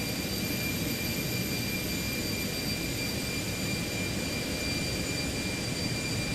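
A two-spool jet engine of an Airbus A320 airliner in Microsoft Flight Simulator runs steadily, a constant broadband roar with faint high whining tones and no change in level, no speech.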